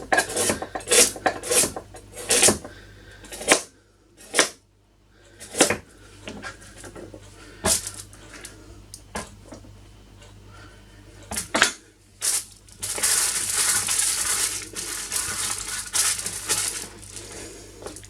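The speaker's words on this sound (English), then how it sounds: "that's all I'm doing, is just chopping up the carrots to go in." A knife chops carrots sharply against a cutting board in irregular bursts of knocks, followed by a scraping rustle near the end.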